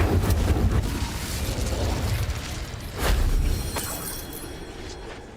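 A fiery Incendio spell bursts out in the Hogwarts Legacy video game: a loud, roaring whoosh with crackling blasts, swelling again into a brief heavier boom midway before tailing off.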